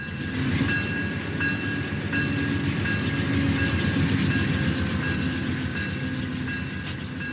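An Amtrak passenger train westbound toward Fresno rumbles along the rails in the Run 8 train simulator game, a steady loud roll with a faint clickety-clack and a sustained engine drone, no talking.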